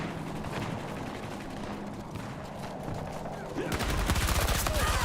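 Video game battle with sustained rapid gunfire throughout, then a louder, denser burst near the end like a grenade blast and heavy firing, with a voice talking over it.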